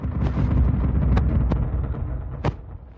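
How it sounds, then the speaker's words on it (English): Low, continuous rumbling roar with a few sharp cracks cutting through, like a rough artificial thunderclap rolling on for several seconds. "Sounds kind of like poorly made thunder, but sounds like thunder still."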